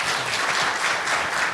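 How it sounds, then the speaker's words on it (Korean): A brief, even burst of audience applause rises from the crowd at a CEO forum lecture, with steady clapping from many hands. "다시 한번 큰 박수 부탁드리겠습니다."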